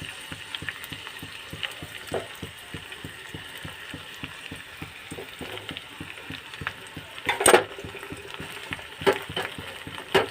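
Fenugreek, black cumin, onion and hibiscus flowers fry in hot oil for homemade herbal hair oil, giving a steady low sizzle with soft clicks and stirring knocks, plus a couple of louder scraping bursts near the end.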